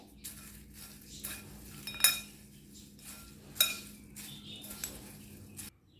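Ingredients for a crunchy snack mixture are tossed together in a bowl, with quiet rustling broken by a few sharp clinks of a spoon against the bowl.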